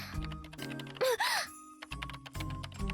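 Keyboard typing in the visual novel game Chaos;Child: a busy run of key clicks and taps mixed with game music and chime-like tones, with brief gaps and fairly steady loudness throughout.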